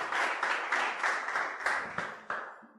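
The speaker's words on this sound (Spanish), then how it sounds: "Demos un aplauso al Señor y pongámonos de pie." A church congregation claps together in steady rhythmic bursts, moderately close, with applause filling the brief moment before it trails off.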